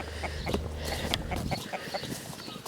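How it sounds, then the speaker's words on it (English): Hens on a homestead with grass paddocks cluck in short, evenly spaced calls close by over a steady outdoor background, with no talking. "We have more hens."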